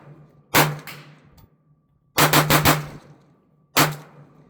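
A PMR30 pistol fitted with an Mcarbo stainless steel magazine fires outdoors: one sharp shot, then a rapid string of three or four, then a final single shot, each loud and close with short decaying echoes.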